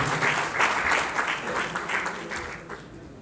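An audience at an Indian social organisation's gathering claps to welcome a speaker onto the stage, a full rolling applause that swells early and then gradually fades over a few seconds.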